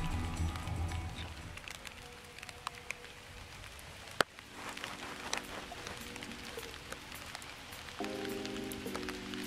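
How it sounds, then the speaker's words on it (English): Rain falling outdoors on cyclamen flowers on a winter day in the Holy Land, a soft continuous patter of drops with occasional sharper taps and one loud close hit. "A little bit of tension, but it starts raining."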